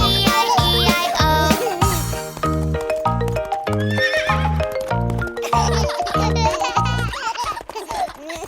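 A cartoonish horse neighs and whinnies, with clip-clopping hooves, inside a bouncy children's Old MacDonald farm nursery rhyme. The calls repeat over loud, rhythmic music, with a brief giggle-like sound.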